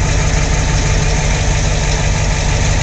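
A Ford sprayer's engine idles steadily, a loud, continuous low rumble with a constant hum and no revving, running alone without talk.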